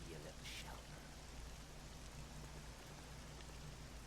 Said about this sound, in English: This accursed rain will chill ye to the bone.